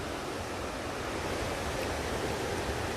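Steady broadband roar of ocean surf at the Bathsheba surf break as a set of waves rolls in, a continuous wash of breaking water heard from a distance with no voices.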